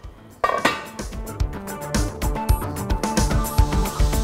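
A metal pan is set onto a kitchen stove in a TV cooking show, with a loud initial clank followed by repeated metallic knocks and clinks over a tonal musical backing.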